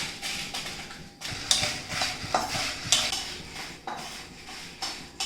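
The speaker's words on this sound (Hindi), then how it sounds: "इसे हम पहले रोस्ट करेंगे।" Eight to ten whole dried red chillies roasting in a pan, tossed and stirred with scraping, rattling strokes over a soft sizzle, close and fairly quiet.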